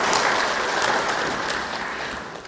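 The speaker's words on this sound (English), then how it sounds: "Another round of applause for our Vice Chair" Audience applause at a Pan-African Movement Rwanda chapter African Liberation Day event, honouring the vice chair: a steady, dense wash of many hands clapping together, fairly loud and close, tapering slightly toward the end with no talk over it.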